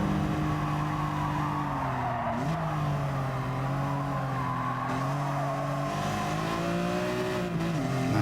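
A BMW race car engine in Gran Turismo Sport holds a steady, close drone, its pitch sagging and climbing through gear changes and corners, with faint tire scrub underneath.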